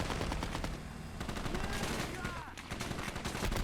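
Gunfire in the video game Gates of Hell, in a Ukraine battle with FPV drones: dense, continuous bursts of rifle and machine-gun fire crackling throughout, loud and close, with a voice talking briefly over it.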